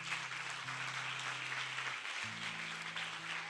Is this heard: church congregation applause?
yes